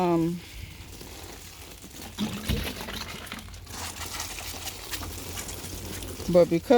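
Water splashes and trickles steadily over young seedlings inside a humid greenhouse, a soft continuous wash with brief louder bursts, and a voice talks at the start and end.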